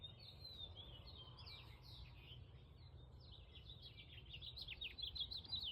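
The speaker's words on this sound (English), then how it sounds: "So I have a little tiny bird up there, just making tons of noise." A tiny bird chirps and tweets busily somewhere overhead in a garden, its high, rapid calls faint and distant over a low background rumble, with no voices present.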